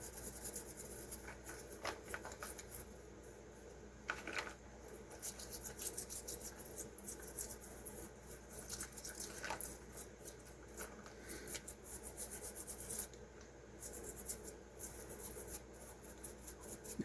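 Paint is scrubbed off a model with 91% alcohol, giving faint, close scratchy brushing and rubbing strokes in irregular bursts over quiet background, with no talking.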